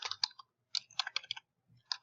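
Close, quiet typing on a computer keyboard, with short clusters of crisp key clicks separated by brief pauses.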